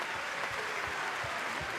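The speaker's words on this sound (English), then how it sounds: "Round of applause for Dechampierre going to the bench." Crowd applause at a Basketball Champions League game between Dinamo Sassari and BAXI Manresa, for a player going to the bench; a steady, even wash of clapping from a distant arena crowd, fairly faint throughout.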